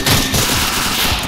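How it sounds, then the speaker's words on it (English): Minigun firing continuously in the Roblox game Military Tycoon, a loud, dense, unbroken rattle of rapid gunfire filling the whole moment. "It may be hard to hear my voice because of the gunfire though."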